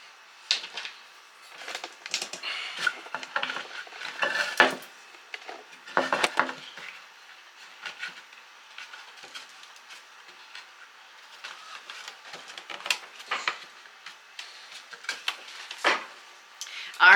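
Wooden dowels are tapped and knocked into a wooden bread board during a dry fit, making scattered hollow clacks and scraping taps close by, with a person talking in between.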